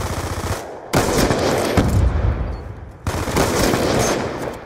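Dense automatic gunfire from a first-person shooter match on the Nuketown map, loud bursts filling the whole stretch with two brief gaps near one and three seconds before firing resumes.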